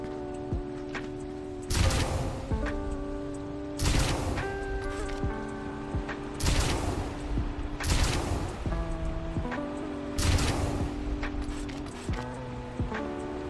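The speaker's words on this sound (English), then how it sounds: "I usually just aim straight down so I can get enough momentum to make the jump in full, but I had to use 2 rockets" Rocket launcher fired for rocket jumps in Team Fortress 2 VR, five loud explosive blasts in an irregular series over game music and background sounds.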